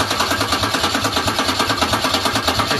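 A Ford Falcon 221 engine with no exhaust cranks over on the starter, a loud, close, rapid rhythmic churning pulse that keeps winding evenly without catching.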